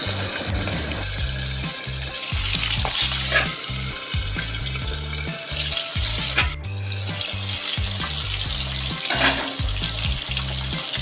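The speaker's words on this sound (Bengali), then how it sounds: "তেলটা আজকে প্রচণ্ড ছিটছে সেই জন্য ঢাকা দিয়ে ভাজছি" Fish fries in heavily spattering mustard oil under a lid, a loud, continuous close-up sizzle and crackle with a low rhythmic thumping underneath.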